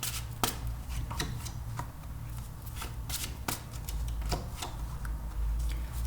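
Tarot cards being shuffled and handled for a reading, quick papery riffles and flicks in close, irregular bursts over a low steady hum, with no talking.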